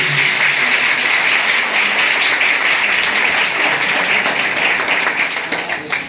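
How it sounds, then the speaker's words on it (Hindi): An audience at an Independence Day event at an institute claps loudly for the Air Force and Army, producing a steady, dense wall of applause that tapers slightly at the end. "सभी लोग जोरदार ताली दें एयर फोर्स आर्मी के लिए"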